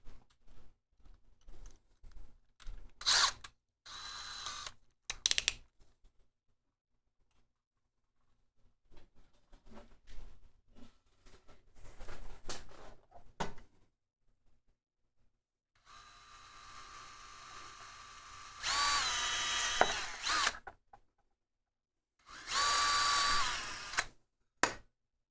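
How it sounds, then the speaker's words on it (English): A cheap uncoated larger bit in a power drill bores into a part while mounting a water-cooling reservoir for a PC, in intermittent close bursts of whining motor with quiet handling noises between them. "Letting the drill do the work instead of pushing"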